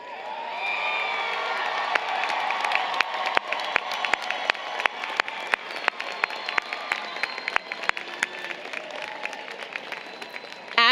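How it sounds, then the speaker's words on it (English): Graduates at a university commencement for engineering and computer science stand and cheer, a large crowd mixing sustained applause, whoops and shouts with sharp claps throughout, filling a big space. "will you please stand and cheer?"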